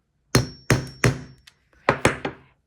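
A hammer strikes a bookbinder's punch from an old scrapbooking rivet kit five times, sharp close knocks in an uneven rhythm, three quick blows, a pause, then two more.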